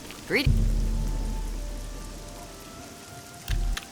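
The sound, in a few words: rain falling in video game The Elder Scrolls 4: Oblivion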